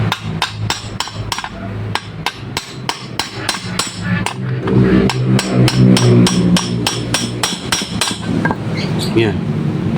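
A hammer taps a rear wheel bearing into place on a Euro Griffin 180i scooter, a steady run of sharp metallic knocks, closely spaced and loud, continuing through the whole stretch.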